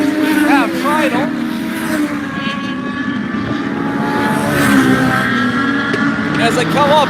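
Race cars circling at Meridian Speedway during a Trick or Treat feature race, a sustained loud roar of engines with pitch sweeps as cars pass, under a commentator's voice over the track.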